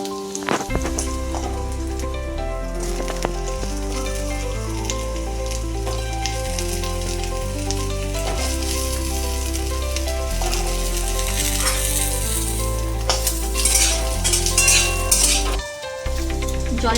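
Potatoes fry in half a spoon of hot oil in a heated wok, a continuous close sizzle with faint stirring clinks, heard beneath background music throughout.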